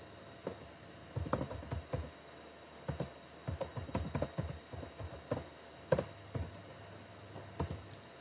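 Typing on a computer keyboard during a Dell N1500 series network switch firmware upgrade, with irregular bursts of close, crisp key clicks and short pauses throughout, no voices.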